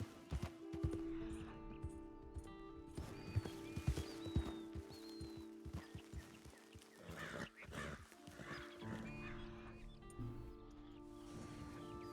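Video game horses in a Western ranch setting, hooves clip-clopping in uneven bursts with occasional whinnies and neighs, bird calls and ambient outdoor sounds around them, while someone talks throughout.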